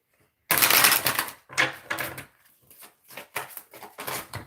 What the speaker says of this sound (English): I just started shuffling, so I'm going to do this again.